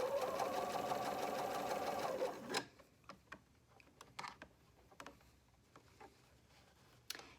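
A sewing machine runs a steady, fast stitch at 3.0 length along the raw edges of a ribbed cuff for about two seconds, then stops, leaving soft handling clicks and fabric rustles.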